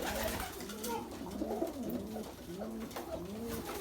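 Pigeons coo steadily in a loft among a mixed flock of healthy birds including Isabellas and blue bars, their low rolling calls overlapping continuously at close range.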